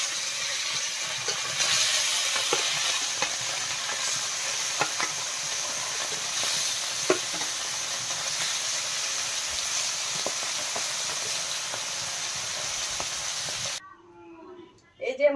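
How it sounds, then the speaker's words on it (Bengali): Sundarbans fish fry in a kitchen pan, a loud continuous sizzle and hiss with scattered spatula scrapes, cut off abruptly near the end as a voice briefly speaks. "এবার মাছগুলো ভেজে নেব।"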